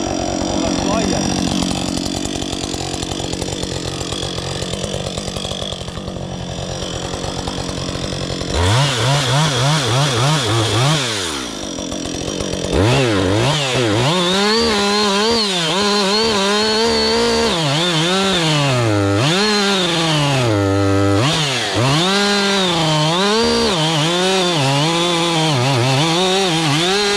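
A chainsaw or power saw cuts a new end piece for a roof, starting after a stretch of background noise and running loud and close in repeated revving bursts with rising and falling pitch, with some talk around it.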